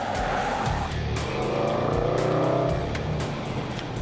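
Range Rover Sport SVR engine roaring loudly under hard driving, a raucous continuous drone that rises and falls with sharp crackles, with tire noise, no talking.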